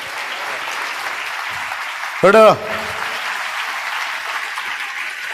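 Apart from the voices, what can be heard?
audience applause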